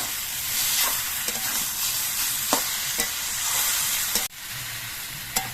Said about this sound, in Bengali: হলুদের গুঁড়ো দিয়ে আরও কিছুক্ষণ কষিয়ে নিতে হবে